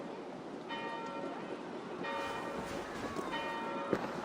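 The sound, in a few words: church bells ringing in Assassin's Creed Valhalla video game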